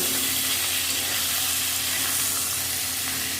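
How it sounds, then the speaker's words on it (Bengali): Chicken pieces frying lightly in a kadai for chili chicken, giving a dense, even sizzle with a constant hiss throughout and no talking. "মাংসটা হালকা করে ভেজে নিয়েছি"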